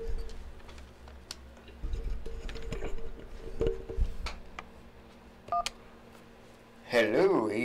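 Telephone keypad tones ring out repeatedly as an incoming call connects on a live stream, a series of short separate beeps with a brief stretch of voice at the end.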